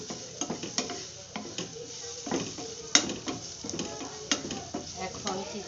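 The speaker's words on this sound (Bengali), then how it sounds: "হলুদটা দিয়ে দিলাম, হলুদটা একটু ভেজে নিই" Turmeric frying in hot oil in a pan while a spoon stirs it, a soft sizzle under repeated scraping strokes and occasional light knocks of metal.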